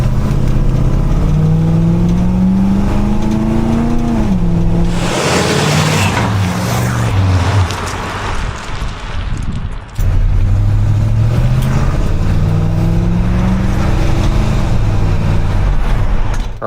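A 1972 Chevy Monte Carlo accelerating hard, exhaust note climbing in pitch through the gears, easing off, then building again in a second loud rising pull, close and without talk.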